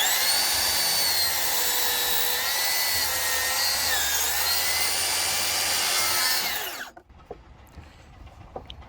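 A Makita DLS714NZ brushless 36V cordless mitre saw cuts a 45° bevel through 45mm timber, a loud steady high whine of blade in wood that abruptly cuts off near the end, leaving faint clicks.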